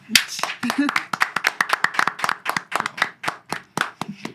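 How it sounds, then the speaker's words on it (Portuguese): A small group claps in a quick, fairly regular rhythm of distinct, close claps. Voices briefly cut in at the start and end. "uma salva de palmas"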